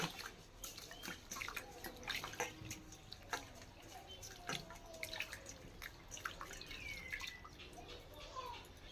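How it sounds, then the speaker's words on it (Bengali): Gobindobhog rice being rinsed in water in a bowl, with soft dripping, trickling and sloshing sounds that are faint and continuous and carry quick small splashes throughout. "ধুয়ে জলটা ঝেড়ে হালকা করে ধুয়ে নেব"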